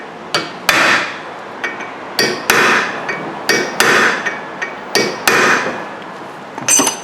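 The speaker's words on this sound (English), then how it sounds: "If you just take a driver like this, put it on top of the bolt like that," Hammer tapping a driver set on a tight rear brake bolt of a 2009-2014 Hyundai Sonata, about a dozen sharp metallic strikes in irregular pairs and clusters, loud and close with ringing decay and no voices.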